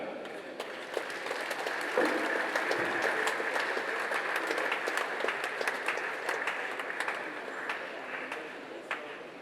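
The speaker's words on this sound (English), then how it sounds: "Another round of applause for Mr." An audience at a political gathering applauds steadily, a dense, even patter of many hands clapping that holds for about nine seconds at moderate distance, with no voices rising above it.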